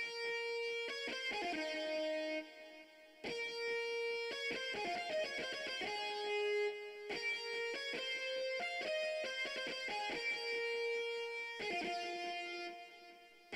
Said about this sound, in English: I just put up this distorted lead preset